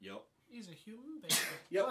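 A single sharp sneeze bursts out between people chatting casually, sudden and loud against their quieter talk.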